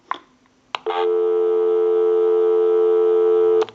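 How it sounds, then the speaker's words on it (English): After a couple of faint clicks, a European PTT rotary desk telephone line gives a loud, steady electronic busy tone that holds for nearly three seconds before cutting off. "We'll call my number and it'll be busy."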